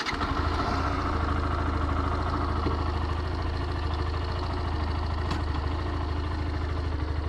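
A small Yamaha YS 125 motorcycle idles steadily nearby, a continuous, even engine putter with no talking.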